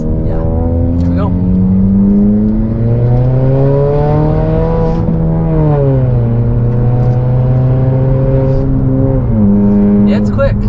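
A 2018 Honda Accord Sport with a 1.5 liter engine accelerates from inside the cabin, its engine tone climbing steadily and then dropping at a shift, with a continuous road drone underneath.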